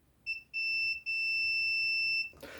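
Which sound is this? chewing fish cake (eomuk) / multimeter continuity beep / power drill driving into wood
multimeter continuity beep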